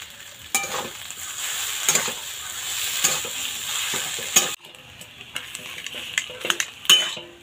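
Cauliflower filling being stirred and fried in a pan for chops, a close, steady sizzle broken by repeated scraping strokes and light clinks of the utensil against the pan, with no talking.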